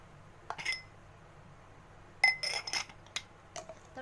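Glasses clink lightly a few times, a single tap followed by a cluster of bright chimes, close and quiet against a faint background hum.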